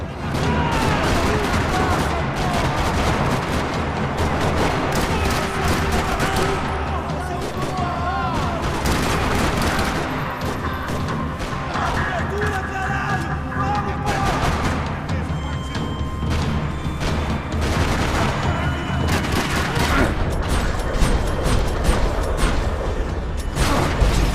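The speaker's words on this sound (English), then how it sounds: "Another parking lot rattling with gunfire." Sustained gunfire rattles through a parking lot in the video game Max Payne 3, a dense, loud barrage of shots and bursts running continuously with booming impacts and voices mixed in.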